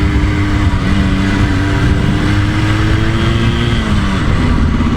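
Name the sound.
1984 Yamaha RS 125 motorcycle riding and turning left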